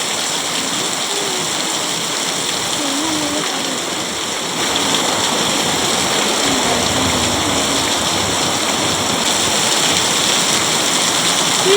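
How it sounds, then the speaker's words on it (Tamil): Heavy rain pouring down outdoors in Mumbai, a loud, steady wash of hiss that never lets up and swells slightly about halfway through. "செம்ம மழை, செம்ம மழை"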